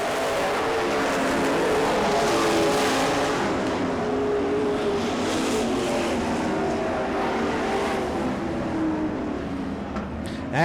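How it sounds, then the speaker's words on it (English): Race cars roaring around a dirt track in a heat race, a steady loud drone of several engines blending together at a distance, with no break in the noise. "Coming out of turn 4 to win heat race number 1, Donnie Kulo."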